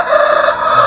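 A sick chicken with a snoring respiratory disease, partway through recovery, gives a short, continuous raspy croaking call up close, strained and hoarse, filling the whole moment with no talk.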